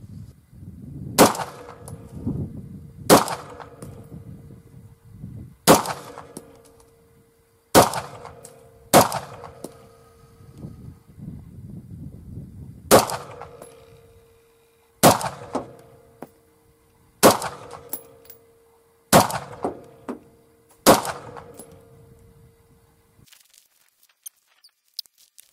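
A scoped AR-15 with a 20-inch heavy barrel is fired offhand at 50 yards. About ten sharp, loud shots come at irregular intervals of one to three seconds, each ringing briefly, with quiet handling noise between them.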